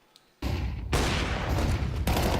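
Tech 9 pistol fire during a Counter-Strike match at the B bomb site, a sudden dense barrage of rapid overlapping gunshots that starts abruptly and keeps hammering loudly to the end, with a fresh volley near the close.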